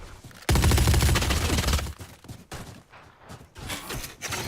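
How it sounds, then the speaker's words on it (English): A swarm grenade from the video game Valorant detonates in a burst of rapid crackling pops for about a second and a half, followed by scattered quieter crackles and thuds. "Placing swarm grenade."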